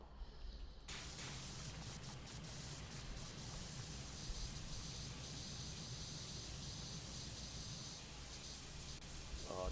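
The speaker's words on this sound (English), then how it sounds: "Rotato nozzle incoming. Hey. Prime Vista Pro Turbo Nozzle." A pressure washer's turbo nozzle spraying in a video game: a constant faint hiss of spray runs steadily throughout without a break.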